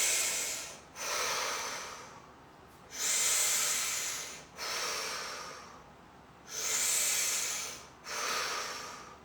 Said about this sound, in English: I'm leaning back into it, and I'm going to breathe. Big breaths.